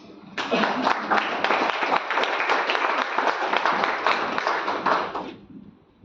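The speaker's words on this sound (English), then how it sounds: "An applause, please." An audience at a book talk bursts into sustained clapping that holds steady for about five seconds, then tapers off quickly.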